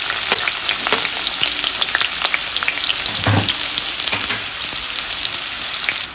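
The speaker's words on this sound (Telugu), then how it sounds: "కడాయి పెట్టుకొని కొద్దిగా ఆయిల్ వేసుకుందాం ఆయిల్ వేడైన తర్వాత ఆనియన్స్ వేసేసుకుందాం" Onions frying in hot oil in a kadai give a steady, close sizzle with scattered crackles and a brief stir, all alone without talk.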